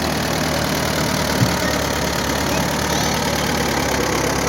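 A 1954 WD-45 tractor idles during an autumn harvest days parade, a steady mid-low engine drone that holds even and moderately loud throughout with broad outdoor background noise.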